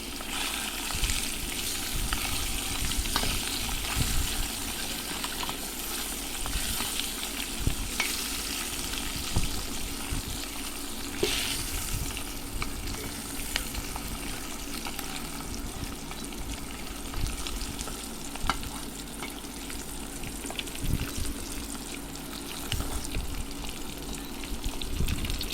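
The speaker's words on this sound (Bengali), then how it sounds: "ডিমটা ভাজা হয়ে গেছে, এখন আমি নামিয়ে ফেলবো।" Eggs fry in a pan with a pinch of turmeric, giving a dense, steady crackling sizzle that holds close and even throughout, with faint stirring scrapes and no talk.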